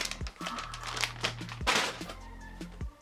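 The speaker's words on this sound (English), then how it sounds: "Let's get rid of the crinkling of the bag." Plastic bag from a Victorian Gothic strapless long dress crinkling up close in short handled bursts, with rustling crackles and a few sharper crunches.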